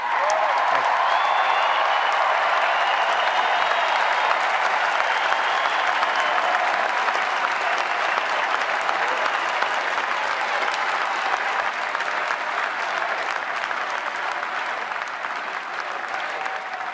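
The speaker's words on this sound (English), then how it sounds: "it is so nice to hear you cheering for what I just said" A large Republican National Convention crowd applauds and cheers during Donald Trump's acceptance speech, producing a loud, dense, sustained wash of clapping and shouting that continues evenly for the full stretch.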